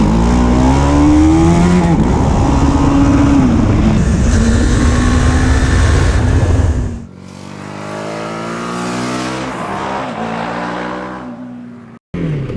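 A BMW G 310 R single-cylinder motorcycle revving hard, its engine note climbing and falling through gear changes, loud and close, then dropping to a quieter ride with wind rush before a brief cut.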